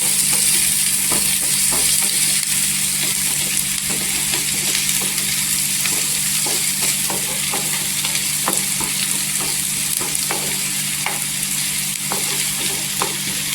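Onions sautéing until soft in a pan for a spicy dried bombil chutney: a loud, dense, continuous sizzle with regular light clicks and scrapes from stirring, close up and with no voices.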